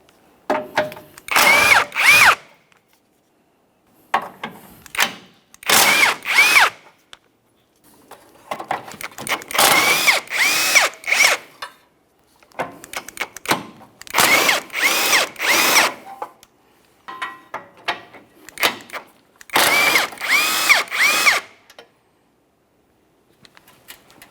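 Power drill or impact driver backing out 12mm bumper bracket bolts on a 2012-2015 Honda Civic: six or seven loud bursts of whirring tool noise, each a second or two long, separated by short silences, close and with no talk.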